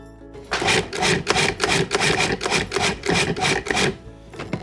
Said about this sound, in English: I'm gonna give this a few more pulses